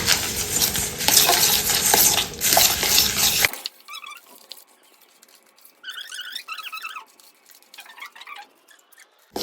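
Garlic, green chili and onion fry loudly in hot oil as a spoon stirs them for a few seconds. The pan then quiets to faint scrapes and short squeaky spoon sounds, with no talking.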